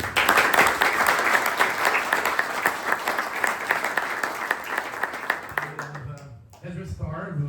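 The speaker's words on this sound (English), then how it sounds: "Big round of applause for Benjamin." An audience at a hospitality education event gives a dense, loud round of applause that slowly tapers off. A voice starts talking near the end.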